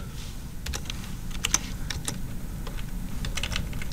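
Typing on a computer keyboard while coding HTML with Emmet: a run of crisp, close key clicks in irregular bursts over a low steady room hum, with no voices.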